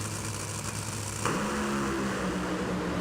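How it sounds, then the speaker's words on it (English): NHRA dragsters launching off the starting line, a loud sustained engine roar that swells abruptly partway through and holds steady to the end. "the dragsters explode off the starting line"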